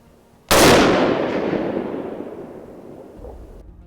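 A single rifle shot fired at a moving wild hog, a loud sharp crack with a long fading outdoor echo trailing off over several seconds.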